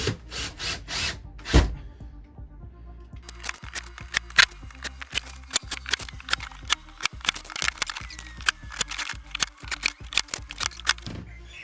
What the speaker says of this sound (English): Now let's start screwing them in.